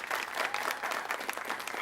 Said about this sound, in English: So big round of applause for Stoneman Douglas.